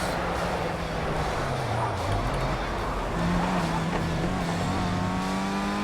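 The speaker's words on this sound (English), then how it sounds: "we're going to punch the throttle around here and get off it here on the brakes." A race car in the Project CARS racing game, running an FR UK Challenge round at Snetterton. Its engine drones loudly and continuously, climbing and dipping in pitch as the throttle is worked through the corners.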